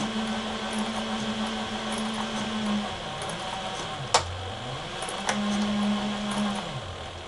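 A sewing machine back stitches a leather EDC pocket organizer, its motor humming steadily, pausing with a couple of sharp clicks, then running again briefly before stopping.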